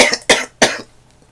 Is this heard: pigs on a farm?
no